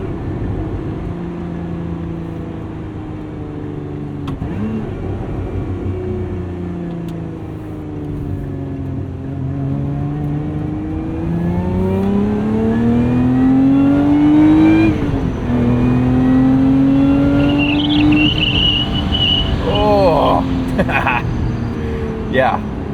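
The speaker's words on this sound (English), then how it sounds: "Love that you can hear that supercharger." A 2024 Lotus Emira with a supercharged engine drones steadily from inside the cabin while driving, its pitch rising as it accelerates, with a faint supercharger whine and wind noise throughout.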